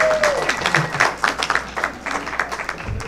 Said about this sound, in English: We always applaud the sign walker.